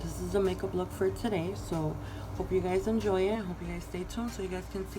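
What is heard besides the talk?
No everyday noise stands out behind the speech.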